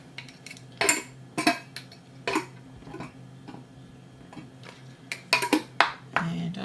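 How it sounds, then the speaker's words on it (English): New metal lids go onto glass canning jars for dry-canned potatoes, making a few sharp clinks and clatters in separate bursts, close and clear, with no talk. "And pop on some new lids."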